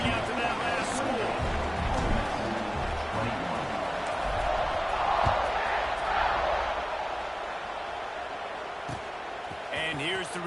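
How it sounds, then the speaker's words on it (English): Stadium crowd in a football video game, a steady, loud roar of many voices that holds throughout with a slight swell midway, under a play-by-play commentator's talk. "this crowd is buzzing after that last score"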